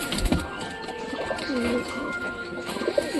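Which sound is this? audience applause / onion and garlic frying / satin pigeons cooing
satin pigeons cooing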